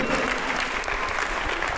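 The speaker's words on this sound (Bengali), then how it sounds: "সবাইকে বলবো জোরে করতালি দিয়ে অভিনন্দন জানাতে, একদম জোরে।" An audience at a prize giving after a folk dance competition in a town hall claps loudly and continuously, a dense wash of applause with a few faint voices mixed in.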